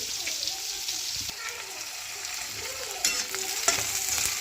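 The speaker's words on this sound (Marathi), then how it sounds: "फक्त थोडासा कांदा तेलामध्ये फ्राय करून घेऊया" Onion fries in oil in a pan with a constant close sizzle, broken by a few soft stirring scrapes and clicks, steady and moderately loud throughout.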